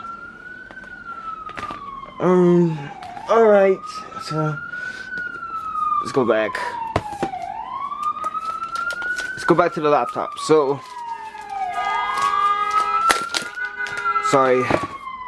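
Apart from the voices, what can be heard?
ambulance siren passing outside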